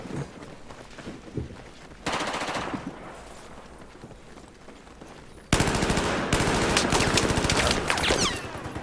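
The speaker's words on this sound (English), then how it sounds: "Nice little suppressive fire." Scar H rifle fire in a Battlefield 4 match on Lancang Dam, bursts of automatic shots that start quiet and distant, then grow louder and denser as sustained suppressive fire with overlapping shots.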